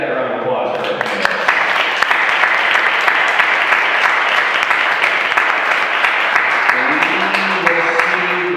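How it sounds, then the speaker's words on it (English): An audience claps for a panel at a Hustle Hour community event, a loud, steady, dense round of applause that carries for several seconds and then tapers slightly. "Can we get that round of applause for our panelists?"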